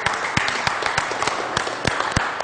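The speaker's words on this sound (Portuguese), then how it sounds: "recebendo os aplausos" An audience claps for a guest at an event, a steady run of applause with individual sharp claps standing out close by against a dense background patter, continuing without a break.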